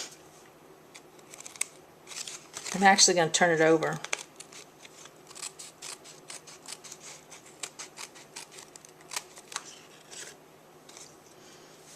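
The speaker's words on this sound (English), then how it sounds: "Now what I'm going to do is take a pair of scissors." Brisk, repeated snipping of scissors through cardstock, close by, running intermittently through the clip while a person talks over it.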